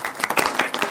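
An audience at an award ceremony claps in a brief, close flurry of many hands lasting about a second.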